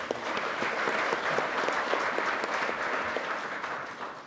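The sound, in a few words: applause for a presenter at a forum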